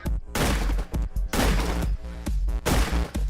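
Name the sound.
gunfire from shooting in a video game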